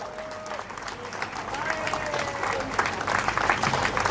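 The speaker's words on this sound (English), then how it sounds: "Give them a round of applause." Crowd applause at a 10K running race in Bengaluru builds steadily and grows louder, with an announcer's amplified voice heard over the clapping.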